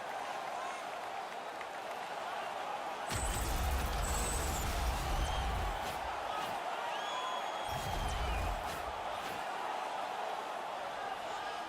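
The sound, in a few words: hockey arena crowd buzzing after a fight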